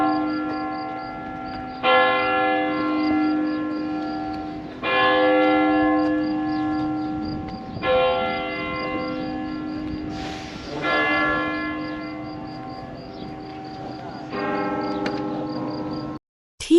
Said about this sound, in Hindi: दोपहर 12 बजे चर्च की घंटी बज रही है।